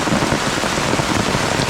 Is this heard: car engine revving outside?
no